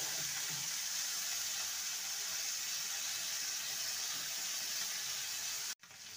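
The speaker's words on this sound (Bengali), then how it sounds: "তেলটাকে ভালো মতন গরম করে নিয়েছি। এবার মাছগুলো ছেড়ে দেব।" Morala fish frying in hot oil, a steady even sizzle that holds at one level before cutting off abruptly near the end, with no voices.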